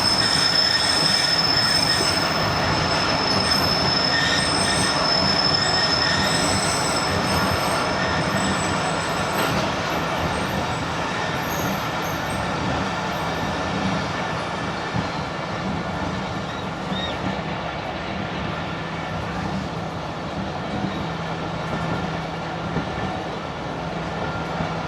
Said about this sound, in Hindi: अभी तक आहिस्ता आहिस्ता चल रही है, रुकी नहीं है ट्रेन।